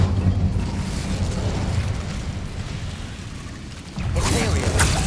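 A loud whooshing, roaring burst of the Incendio fire spell in Hogwarts Legacy rumbles for several seconds, then flares again sharply near the end.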